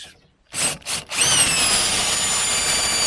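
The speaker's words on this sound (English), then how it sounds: "so you just carry on drilling those" Power drill boring out spot welds in the steel floor pan of a Mk3 Ford Cortina under restoration, with a few short bursts followed by a sustained, loud grinding whine as the bit bites through metal.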